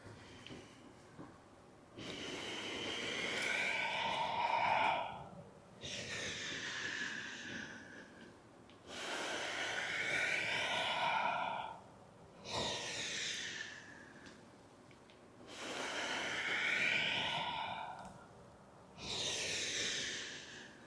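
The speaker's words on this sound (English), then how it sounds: "Bring your Ujjayi breathing into it." Ujjayi yoga breathing during an all-levels flow class, with slow, audible ocean-like inhales and exhales through a constricted throat, about six long breaths alternating in an even rhythm, close and quiet with no talk.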